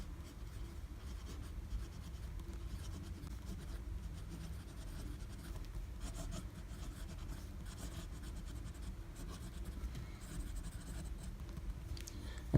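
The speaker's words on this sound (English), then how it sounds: "You can hear just how smooth this nib is." A wet, smooth Diplomat Esteem fountain pen nib glides across paper in close, soft, continuous scratching strokes, quiet and steady without speech.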